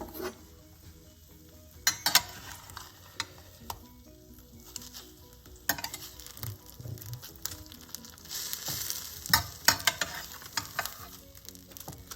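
Crumbed pork chops sizzle and fry steadily in a pan, a close crackling bed broken by sharper clatters and scrapes as the chops are turned, with no talking.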